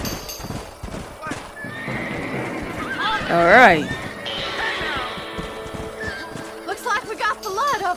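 Horses in the Red Dead Redemption video game whinny loudly and clatter with hooves at a gallop while people talk over the action, one shrill neigh rising above the rest midway.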